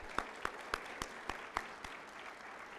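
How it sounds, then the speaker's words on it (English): Sparse, faint audience clapping at an induction ceremony, a handful of distinct claps in a slow, uneven rhythm that thins out toward the end. "Let's give her one more round of applause."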